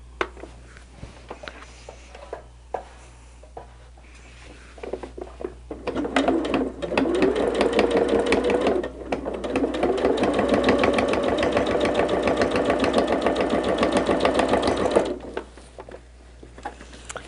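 A sewing machine machine-quilting fabric runs in a steady rapid whirring stitch for about nine seconds, pausing briefly midway, with light clicks and handling sounds before and after.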